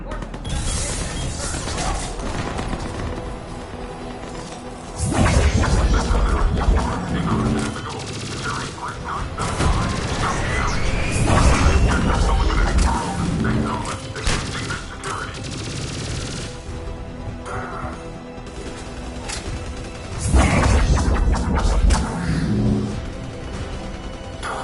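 Gunfire and combat in the video game Mass Effect: loud bursts of shots and crashing impacts come in waves over a steady background, with someone speaking over parts of it.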